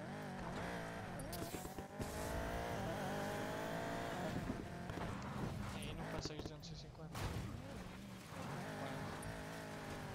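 Racing car engine from the Need for Speed Payback video game, droning steadily at high speed with shifting pitch, heard under ongoing talk throughout.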